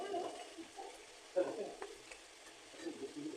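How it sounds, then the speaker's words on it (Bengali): Fennel chicken with fried raisins being stirred in a pan, heard as soft, faint sizzling with scraping spoon strokes and a few brief clinks over a quiet background. "ভেজে রাখা কিশমিশ মৌরি কিশমিশ ভেজে রাখা দিয়ে দেবো একটু ভালো করে নেড়ে ছেড়ে দেবো"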